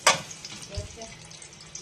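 Garlic sautéing in a frying pan, a soft short sizzle with a scrape of stirring, faint and brief.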